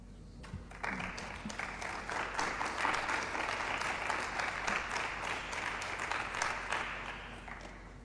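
Sustained audience applause after a lecture on prophetic preaching, a broad steady wash of many hands clapping that swells after a faint start and holds for several seconds, with no talk over it.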